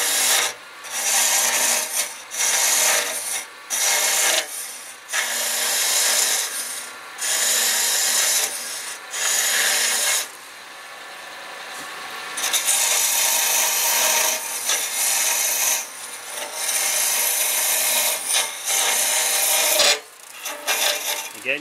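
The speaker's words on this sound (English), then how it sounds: "So I'm back round more in front of the lathe now, and I'm just going to start peeling out the base." A wood lathe with a gouge peeling out the base of a turned piece gives loud, close, hissing cuts in long bursts separated by short pauses.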